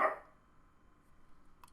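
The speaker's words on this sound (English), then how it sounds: "Dog, you need to calm down." A dog barks once loudly at the start during an online card game session, then only faint room noise and a tiny click follow.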